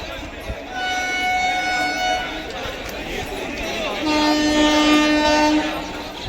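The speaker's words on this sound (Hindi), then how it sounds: "ट्रेन अभी थोड़ी स्पीड में बढ़ चुकी है" A passenger train on the Durg to Sultanganj route, at a station crowded with kanwar pilgrims near the tracks, gives long horn blasts over a steady rumble of cars, with people talking in the background.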